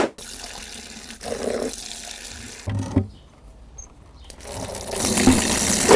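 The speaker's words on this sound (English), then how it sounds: "we're going to fill these buckets up with warm water." Warm water gushes from a tap into a bucket, pausing briefly before a stronger rushing flow fills it again, loud and close.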